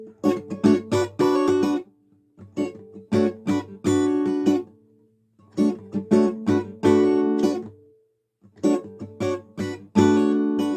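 Acoustic guitar chords strummed quickly at full speed in rhythmic bursts, four phrases separated by short pauses, loud and close with no voices.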